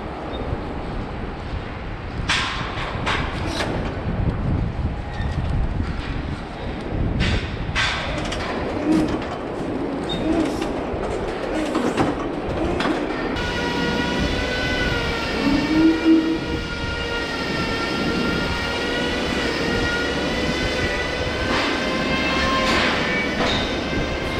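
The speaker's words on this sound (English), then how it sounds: "it is pretty loud with that hoof trimmer there" A hoof trimmer runs loudly during cow hoof trimming, a continuous grinding machine roar with a droning whine, and birds chirp faintly in the background.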